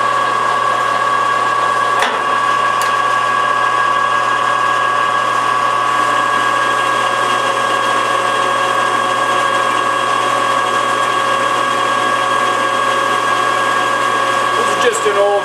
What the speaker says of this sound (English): we got our cutter in place here, and we're going to take a cut off this shaft